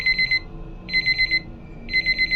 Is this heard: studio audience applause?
no